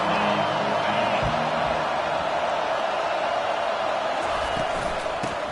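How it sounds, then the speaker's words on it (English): Stadium crowd noise from the college football video game NCAA 25, a steady, dense roar of fans filling the background with faint thumps, under a commentator's voice. "Crowd trying to make life miserable for this offense."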